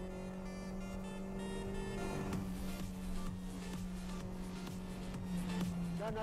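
A Renault sport car's engine hums steadily from inside the cabin on a track, the pitch dropping around a downshift to third for a tightening corner, then holding as the car pulls through, quiet and continuous.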